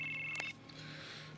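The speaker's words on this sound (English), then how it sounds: "Dean, your phone's ringing." A telephone rings once in a TV episode, a short electronic trill that cuts off after about half a second, leaving a quiet hum behind.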